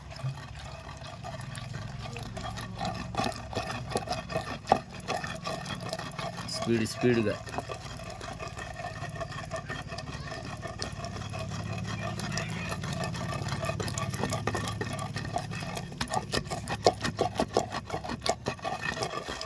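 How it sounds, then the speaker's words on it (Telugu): Raw tamarind chutney is ground by hand in a stone mortar with a pestle, a steady run of close scraping and knocking strokes that speeds up toward the end, while people talk over it. "ఇలా మెత్తగా రుబ్బుకోవాలి"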